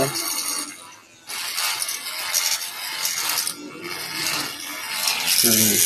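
Electric wood trimmer machine running on wood, a bright whining, rasping buzz with brief dips where the cut eases, continuous and close throughout.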